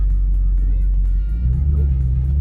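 Audi R8 engine rumbling low and steady, then its tone climbing into a louder rev as the car swings into a full-lock turn, heard from inside the cabin.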